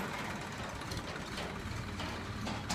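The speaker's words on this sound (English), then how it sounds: "Here comes some more of the construction. This is a tractor. Let's just wait till it goes by." Massey Ferguson tractor on a construction route rumbles steadily nearby with a low, continuous engine drone as it passes.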